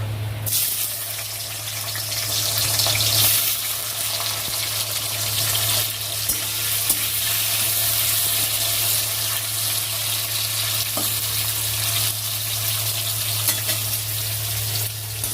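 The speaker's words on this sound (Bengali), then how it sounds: "তেলটা গরম হয়ে গেছে করলাটা ভেজে নেব" Bitter gourd fries in hot oil in a wok, a loud continuous crackling sizzle over a steady low hum, close and unbroken throughout.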